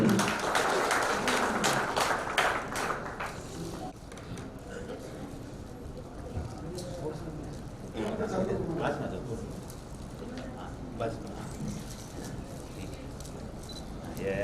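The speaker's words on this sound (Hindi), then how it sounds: "तो एक बार फिर से जोरदार तालियां" Applause from an audience at an NGO function in a Jodhpur hotel, dense clapping loudest at the start and thinning into a steady patter, with voices and crowd murmur mixed throughout.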